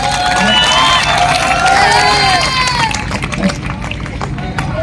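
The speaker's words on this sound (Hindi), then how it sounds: "ऐसे ही मांगीलाल जी के सम्मान में पूरा सदन ताली बजाए।" Audience at a Hindi comic poetry recital claps and cheers, with excited shouts and whoops rising over a crowd murmur. The cheering is loud at first and fades into background hubbub.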